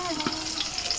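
Eggplants stuffed with bhetki fish fry in hot oil over a very low flame in a covered pan, giving a steady, close crackling sizzle with no talking.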